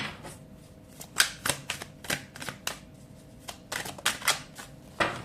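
Playing cards shuffled at a table in a series of quick riffles and soft flicks, moderately close, with no talking.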